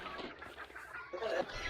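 Chickens clucking in a video game, a steady run of short clucks and fowl calls in the background, moderately faint.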